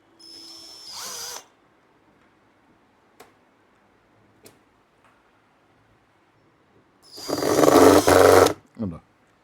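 A power drill drives screws into a home theater casing in two bursts of high motor whir: a short one at the start, then a longer, louder run near the end, with quiet handling clicks in between.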